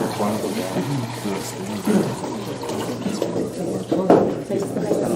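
Plain tap water pours steadily into a container in a kitchen setting, a continuous splashing gurgle that shifts slightly as it fills, with people talking over it.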